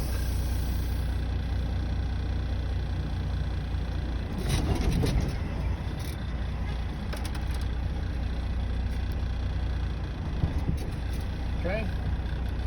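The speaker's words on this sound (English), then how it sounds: "I'm going to do a little tug against my parking brakes to make sure that they hold the truck in place." A semi truck's engine rumbles low and steady during a tug test against its parking brakes, heard from inside the cab under a person talking, with a brief swell in the middle.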